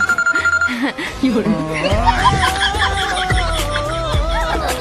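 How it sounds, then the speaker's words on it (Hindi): A mobile phone rings with a repeating electronic ringtone, loud and close, while voices and light laughter carry on underneath. "मेरा फोन बज रहा है।"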